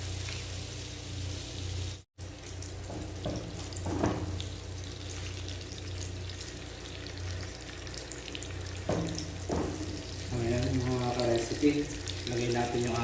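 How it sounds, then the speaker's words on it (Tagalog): Chicken liver deep frying in butter in a pan gives off a steady sizzle and crackle throughout, with a few brief clinks and stirring sounds over the top. "Para sa pag-deep fry ng ating atay."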